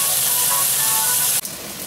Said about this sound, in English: We want to render the fat until the pancetta turn into like crisp